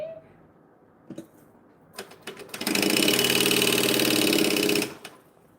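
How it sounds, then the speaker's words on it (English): A sewing machine stitches the base of a fabric bag, starting after a few handling clicks and knocks, then running as a steady, fast mechanical whir for about two seconds before stopping, close and loud. "So I'm only going to sew the bag base on at one point"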